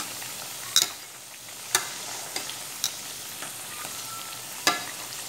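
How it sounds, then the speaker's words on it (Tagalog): Chicken pieces frying in oil for homemade maqluba, a steady soft sizzle with occasional sharp pops and spatters spaced a second or so apart, close and moderately quiet with no talking. "prito natin siya dyan"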